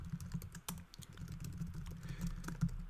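Typing C++ code on a computer keyboard, with a quick run of close, crisp key clicks and a few heavier strokes filling the short stretch, no voice heard.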